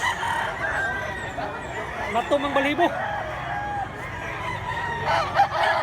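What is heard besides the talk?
rooster crowing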